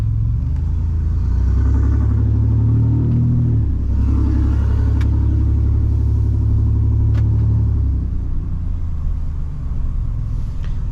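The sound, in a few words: diesel pickup truck exhaust while driving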